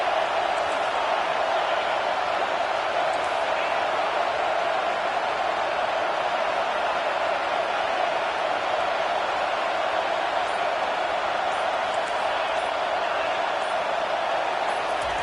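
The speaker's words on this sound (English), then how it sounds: "Decibels rising as the crowd gets behind this defense on third down." A packed stadium crowd roaring on third down in the CFB25 college football video game, a steady, dense wash of cheering that holds at an even loudness throughout without any clear break or swell.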